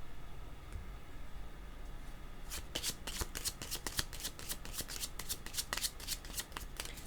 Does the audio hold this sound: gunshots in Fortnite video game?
no